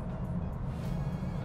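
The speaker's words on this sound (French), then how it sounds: "Le bruit du diesel de chez BMW, on pourra le reconnaître entre mille." A BMW 320d diesel engine idles steadily up close, a low, rumbling drone with a faint rattling texture and no variation in pace.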